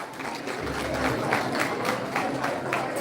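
Audience applause for an award winner at a live community recognition event, a steady wash of many hands clapping that fills the whole moment at moderate volume, with faint crowd noise underneath.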